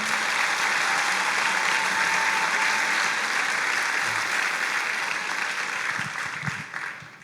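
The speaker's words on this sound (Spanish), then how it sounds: "Le damos un aplauso al Señor por eso." A church congregation bursts into loud, sustained applause during a sermon, with thick clapping that holds steady and then fades away near the end.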